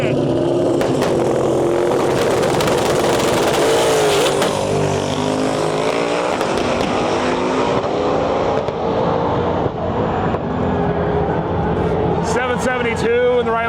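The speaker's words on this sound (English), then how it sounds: "Jonathan Adkins driving the Grub Worm 6-second Camaro" A Grub Worm 6-second Camaro drag race car roars hard down the strip at a World Cup Finals qualifying event, loud and sustained, with an announcer talking over it as the engine note shifts and fades.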